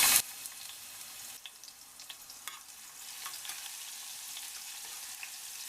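Finely chopped garlic and cumin seeds go into hot oil for a spicy masala pasta. A brief loud hiss at the moment they hit the pan settles into a steady, close, crackling sizzle.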